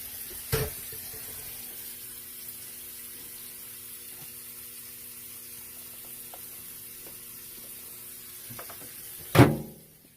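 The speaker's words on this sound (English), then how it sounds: "I'm going to put a little tiny bit of water," A faint, steady trickle of water runs into a dish in a kitchen sink, with a soft clunk at the start and a louder splash or knock near the end.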